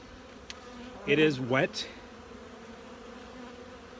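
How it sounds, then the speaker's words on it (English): Bees fly outdoors in frosty bee yards, giving a faint, steady buzzing hum in the background while a person speaks briefly near the middle. "the bees are out here and they're flying"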